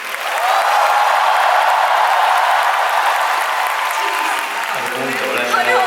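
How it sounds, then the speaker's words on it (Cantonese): Sustained applause from a large concert audience at the Hong Kong Coliseum, loud and steady for about five seconds, then thinning as a few voices and cheers emerge near the end. "所以大家俾多啲掌聲佢。"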